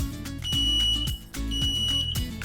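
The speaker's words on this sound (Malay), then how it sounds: "yang tadi tu nama dia piezo buzzer active." An active piezo buzzer sounds its built-in tone in two steady, shrill beeps of about a second each, separated by a short gap, under a loud rhythmic electronic drum pattern.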